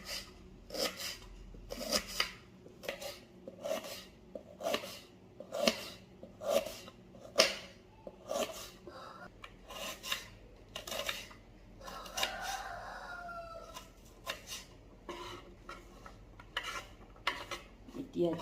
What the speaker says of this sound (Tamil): வெங்காயம் வெட்டிக்கலாம்.